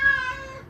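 A house cat gives one brief, clear meow that slides downward in pitch and fades, heard alone at moderate volume indoors.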